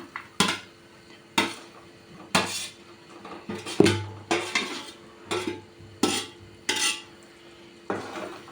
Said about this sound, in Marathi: आपली जी भेंडी होती तर आपण ती इथं भेंडी मिक्स करून घेऊ एकदा